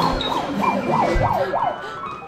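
A wailing emergency siren sound effect with a quick, regular up-and-down warble, loud and close, cycling about five times without voices.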